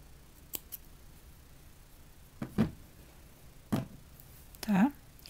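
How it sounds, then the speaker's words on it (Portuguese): Scissors snip through leftover crochet thread in a few short, crisp cuts spaced a second or so apart, close by against a quiet background. "E posso cortar o que sobrou aqui."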